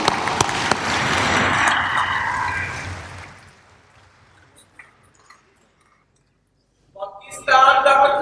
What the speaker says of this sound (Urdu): آپ کی زوردار تالیوں میں۔